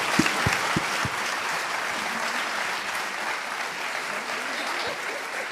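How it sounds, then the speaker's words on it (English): Steady applause from a large audience, dense clapping that holds at an even loud level throughout. "I want to give a big round of applause to our panel members"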